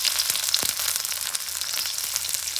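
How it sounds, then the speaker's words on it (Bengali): Onions and green chillies sizzle and fry steadily in a pan, a close, continuous crackling hiss with small pops throughout and no voices. "এখন ভুনা করব।"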